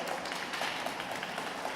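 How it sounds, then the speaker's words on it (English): A conference audience claps in a steady, dense patter of applause heard from within the room, even in level throughout the brief stretch. "give yourselves a round of applause"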